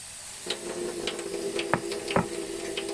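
A drink bomb fizzes in water, a soft continuous hiss with scattered tiny pops and crackles, close and fairly quiet.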